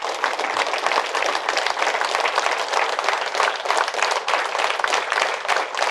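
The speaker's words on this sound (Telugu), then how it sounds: "ఆ విధంగా పాల్గొన్న అందరికీ ఒకసారి గట్టిగా చప్పట్లు కొడదాం" A large audience at a spiritual gathering bursts into loud, sustained applause, dense overlapping claps holding steady at close range for the whole stretch with no voices on top.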